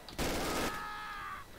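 Machine gun fire in the Darkest Hour '44-'45 war game, aimed from a church: a single loud, dense burst lasting about half a second, followed by a fading ringing tail.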